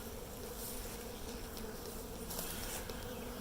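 Honey bees swarm around a Flow Hive with empty and drawn comb frames, giving a steady close buzzing hum, fairly soft and unbroken, with no voices.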